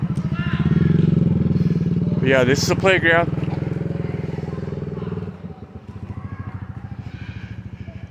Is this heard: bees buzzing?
no